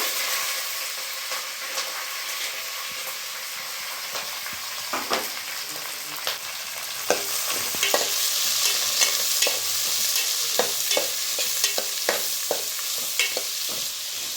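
Sliced onions, green chilies and curry leaves fry in hot oil for shavige upma, giving a steady loud sizzle broken by repeated scraping stirs and clatters of a spatula against the pan, with no voices.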